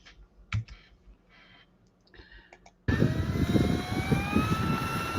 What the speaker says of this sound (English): Watch him take off. Nice takeoff. Power takeoff.